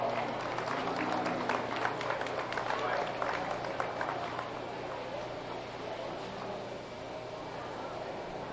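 An audience at a county fair beef show applauds during the championship Hereford drive, with dense clapping heard strongest at first that then thins and fades into a quieter, noisy crowd background.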